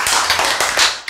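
A short burst of applause from a church congregation during a sermon, dense clapping that rises and falls over about a second with no voices.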